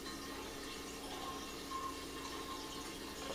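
Merlot wine from a kit being siphoned into another container, a steady soft liquid hiss and trickle running without a break.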